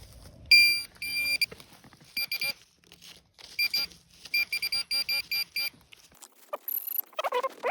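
Minelab Manticore metal detector in the Australian bush, giving repeated short electronic signal beeps in choppy bursts, loud and close, with brief rustling near the end.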